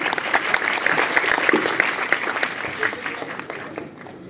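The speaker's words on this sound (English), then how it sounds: "So big round of applause for her, please." An audience claps in a lively round of applause that peaks early and then gradually thins and fades, with a voice speaking faintly alongside the clapping.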